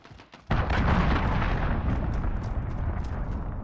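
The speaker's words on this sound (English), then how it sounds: "Allied cruise missile away." An allied cruise missile strike detonates in Call of Duty: Modern Warfare, a sudden loud blast at the start that rolls into a long, heavy rumble, with no voices over it.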